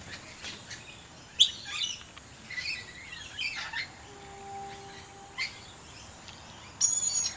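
Wild birds call and chirp in a sanctuary, scattered tweets and short bright calls at close to middle distance over a quiet outdoor background, with a couple of louder bursts near the start and end.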